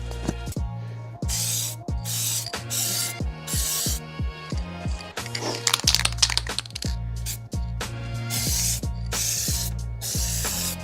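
Aerosol spray paint laid on in a light first coat for parts of an R34 Skyline, heard as about six separate hissing bursts of a second or so each, close and fairly loud, over a steady low background hum.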